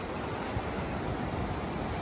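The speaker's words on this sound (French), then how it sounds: "tu vois là la petite vague" Ocean surf at Teahupoo, Tahiti, makes a soft, continuous rush of breaking waves, faint and distant with some wind, and nobody speaks.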